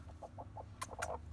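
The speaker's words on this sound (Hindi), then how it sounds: "जिधर मुर्गी को बिठाया हुआ है अंडों पे" A brooding hen sitting on eggs gives a series of soft, low clucks, four or five evenly spaced, then a couple of sharper, louder calls near the end, all close by and fairly quiet with no talking.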